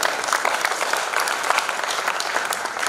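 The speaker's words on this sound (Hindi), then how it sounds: "एक बार इन सभी के लिए जोरदार ताली बजा दीजिए।" Steady applause from a large audience at a Kavi Sammelan and Mushaira poetry gathering, dense and continuous throughout without a break.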